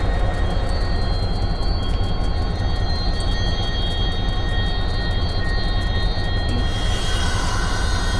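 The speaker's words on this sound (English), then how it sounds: "You'll want to reduce your dynamic brake and increase your locomotive brake until it is fully applied." A GP40-2 diesel locomotive in Train Simulator 2018 brakes toward a stop, giving a steady loud engine rumble and rolling roar, with a faint rapid clicking above it that cuts out near the end.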